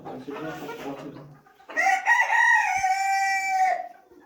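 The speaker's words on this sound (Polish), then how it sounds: "Tutaj jest ten nowy kogucik." A young rooster clucks low and close, then lets out a loud, drawn-out crow that lasts about two seconds before fading.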